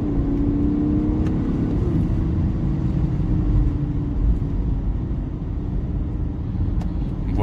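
A BMW 330d F31 diesel estate with a stage 1 tune accelerates hard, its engine a loud, close, sustained rumble with a rising drone as the tyres slip slightly.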